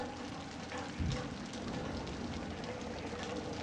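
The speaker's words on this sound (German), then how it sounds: "es stürmt sehr stark draußen. Es regnet" Steady rain and storm noise outside in the horror game Outlast: Whistleblower, a dense continuous hiss with a brief low thump near the start, unbroken throughout.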